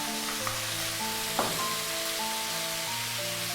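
Garlic sizzling as it hits hot oil in a pan for Filipino chicken adobo, a continuous soft frying hiss with a brief stirring clatter, no voices.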